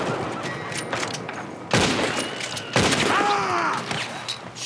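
Gunfire from Red Dead Redemption 2, with two heavy booming shots standing out over a steady bed of scattered shooting and game noise at moderate loudness.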